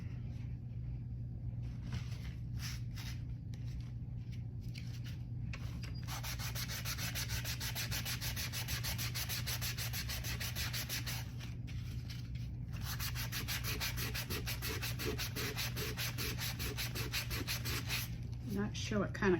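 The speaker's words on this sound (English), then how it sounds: "What did I do with my sander?" An electric sander works over wood in long continuous passes with a steady motor hum underneath, stopping briefly twice and starting up again, close by with no talking.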